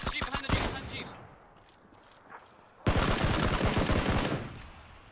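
Bursts of rapid gunfire in the PUBG battle royale game, coming from a hill: one loud automatic volley at the start, a quiet gap, then a second long, loud fusillade of closely spaced shots.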